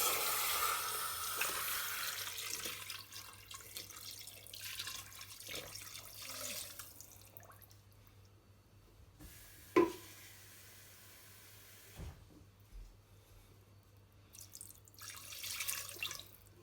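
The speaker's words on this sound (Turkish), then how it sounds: "Ve üzerini yaklaşık bir parmak geçecek kadar su ilave ediyoruz." Water pours from a tap into a pressure cooker holding a whole chicken, a steady splashing fill for the first several seconds, then quieter drips and a sharp clank near the end, with no talking.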